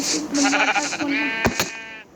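A sheep in Minecraft gives a loud, wavering bleat close by. A short sharp click follows.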